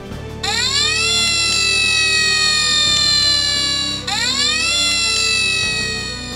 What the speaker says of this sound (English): Flynn and Bell left with sirens blazing.